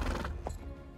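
A single brief horse whinny from the card game Gwent: The Witcher Card Game, heard close and fairly quiet, with a short rattling effect at the start.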